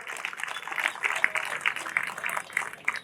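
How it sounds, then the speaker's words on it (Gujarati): An audience at an Ahir community gathering claps together to honour 120 families, a dense, steady patter of many hands at moderate distance, continuous with small swells throughout. "એક સાથે 120 પરિવારને તાળીઓથી વધાવો"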